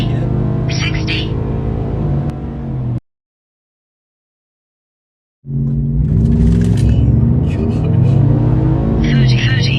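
Stock pickup truck accelerating hard in a speed test, its engine rising in pitch through the gears with a sudden silent gap midway, then roaring again, close and loud.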